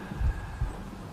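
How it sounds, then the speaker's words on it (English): Two soft, low thumps of a heartbeat sound effect in a holophonic binaural recording, a double pulse over a steady quiet hum with no talk. "Why is the heartbeat?"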